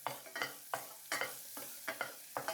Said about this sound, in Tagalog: Magtunaw tayo ng 1 kutsarang margarine. Next, maggisa tayo ng bawang.